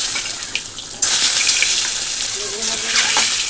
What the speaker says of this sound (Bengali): আজকে আমাদের ডিমটা ভেজে দাও